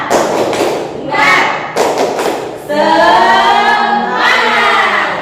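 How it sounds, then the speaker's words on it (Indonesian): Students in a small-group school counselling session do a rhythmic cheer clap: several sharp, loud bursts of group clapping, then voices chanting together as the clapping continues. "Nah, tepuk semangat."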